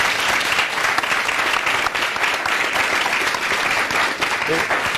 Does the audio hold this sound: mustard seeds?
no